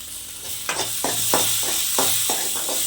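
Tomato pieces dropped into a pan of frying onions for a ladyfinger palya set off a steady, close sizzle. Several soft stirring scrapes run through it at irregular intervals.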